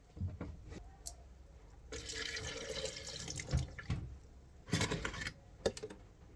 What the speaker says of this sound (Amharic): ውሃ በደንብ ጨምራለሁ